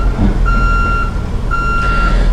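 A 2018 Ford Transit Starcraft Quest 20-passenger school bus in reverse gives two loud, steady, high-pitched backup beeps, each about half a second long, over a low idling engine rumble.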